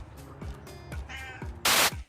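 A cat meows repeatedly in drawn-out cries, close by, ending with a louder harsh yowl.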